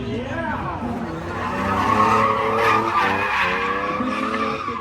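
A drift car slides with loud, sustained tire squeal and a roaring engine at a drifting event, close by and swelling in the middle, with crowd noise and voices underneath.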